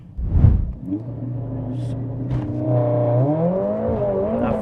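A 500 bhp Mercedes-AMG A45 S launches hard on a quarter-mile run with wheelspin, and its engine rumble rises steadily as it accelerates, loud and close from inside the cabin.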